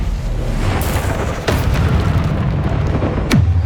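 Loud, booming bursts of fire-spell casting in the Hogwarts Legacy game, the Incendio spell, with whooshing flares over dense, continuous combat noise.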